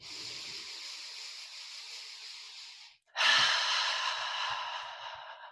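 A slow, deep breath drawn in during a heart-energy meditation, with an airy inhale lasting about three seconds, a brief pause, then a stronger, louder breath that gradually fades, close and alone.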